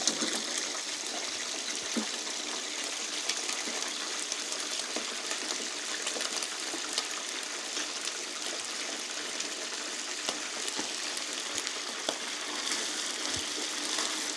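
Chicken fries in hot ghee over a full flame on the stove, a steady, dense sizzle and crackle that runs continuously without pause, moderately loud and close.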